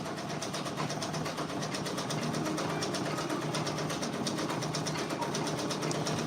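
An embroidery machine stitches a Drake patch with beige thread, giving a steady, loud mechanical whir with fast repetitive needle ticking that runs unbroken throughout.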